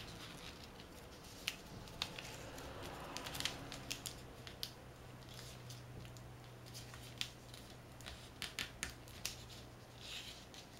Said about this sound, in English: we're going to go ahead and fold down again